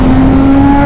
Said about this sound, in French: Oh là là, le bruit de ma bécane, mec, c'est un truc de ouf.